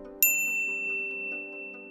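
A single bright bell ding strikes sharply and rings out with a sustained metallic tone over a soft steady musical background, notification chime style.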